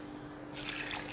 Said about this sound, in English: let us add in some coconut water